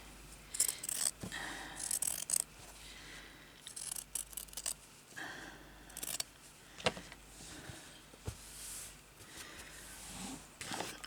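Scissors snipping fabric while a patchwork bag is made, a string of short, crisp cuts and rustles that come in bursts at close range, with no talking.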